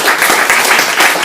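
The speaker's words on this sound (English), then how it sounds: "Round of applause for Brad, ladies and gentlemen." A loud, dense round of applause from a restaurant crowd, continuous clapping filling the short moment with no talk over it.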